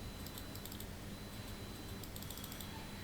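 Keys clatter on a computer keyboard as a command is typed, with quick clustered clicks followed by a pair of Enter presses, faint and close over a steady background hiss.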